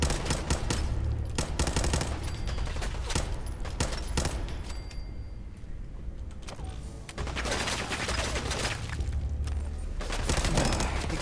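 Rapid automatic gunfire crackles in bursts during a firefight in the game Fallout 4. Volleys come in dense clusters, break off briefly around the middle, then resume strongly toward the end.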